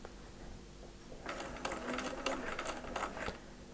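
A sewing machine stitches a quilt block with short, slow stitches, giving soft ratcheting needle taps and clicks at close range after a quiet start.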